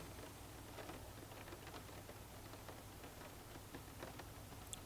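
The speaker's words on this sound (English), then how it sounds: "It's quite cosy in here when you got the sound of the rain on the roof" Rain drumming steadily on the roof of a van, a soft continuous patter heard from inside with scattered individual drops, no talk.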